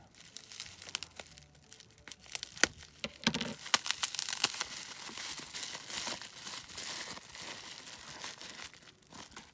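Adhesive tape is torn and handled at close range, giving sharp crinkling and ripping bursts that come in quick irregular clusters, fairly faint overall.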